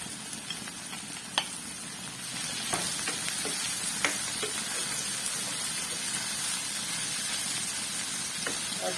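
Minced meat keema hits a hot pan with shimla mirch and settles into a steady close sizzle and crackle, marked by a few sharp pops early on.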